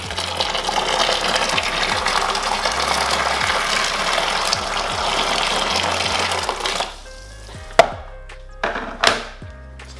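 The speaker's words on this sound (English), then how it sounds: "Into that now, and add our boiling water." Boiling water poured from a kettle onto a kilo of sugar in a home-brew fermentation vessel, a loud steady gushing stream for several seconds that then stops, followed by a few sharp knocks and clinks.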